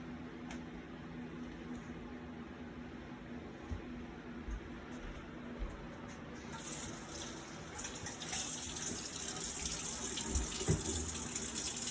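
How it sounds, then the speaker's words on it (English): Water runs steadily from a kitchen tap into a sink as hands are washed before cooking, a constant moderate wash that swells louder toward the end, with no talking. "I'm going to have to wash my hands in a second"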